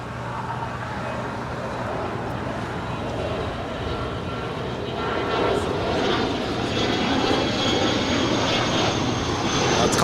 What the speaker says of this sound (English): This is Swiss Flight 40 coming in from Zurich.